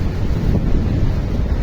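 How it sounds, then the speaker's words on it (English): Strong wind gusting across a mountainside on the Annapurna trek in Nepal, a steady low roar buffeting the microphone throughout with no other sounds standing out. "It is quite windy as well"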